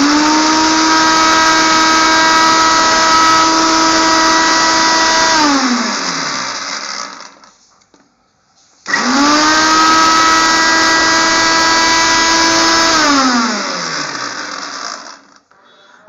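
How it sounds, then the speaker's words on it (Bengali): An electric blender grinds dried fish with a few garlic cloves in two loud, steady bursts of about five seconds each, the motor whining down after each run with a short pause between. "এতে কয়েক কোয়া রসুন দিয়ে আবারও খুব ভালোভাবে ব্লেন্ড করে নেব"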